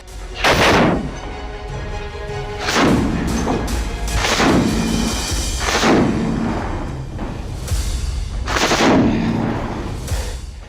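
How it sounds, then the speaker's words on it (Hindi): Heavy gunfire in the Russia-Ukraine war booms out in irregular bursts, about six loud shots echoing with a rumbling tail, spaced a second or two apart. "लगातार आ रही गोलियों की आवाज।"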